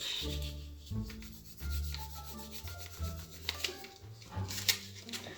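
A pen writing on paper, giving a close, soft rubbing and scratching in short strokes with brief pauses, quiet and with no talk.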